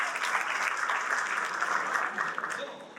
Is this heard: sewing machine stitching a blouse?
no